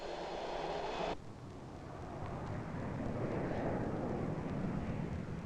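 Northrop F-5E Tiger II jet taking off with afterburner: a loud, steady roar of broadband jet noise that shifts abruptly after a second and keeps building, with no talk.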